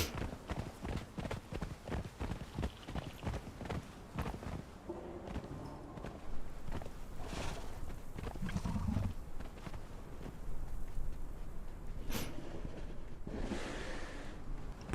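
Horse-like animal sounds in the survival game Conan Exiles, with rhythmic clip-clop hoofbeats over a dense, noisy game soundscape that swells and fades throughout.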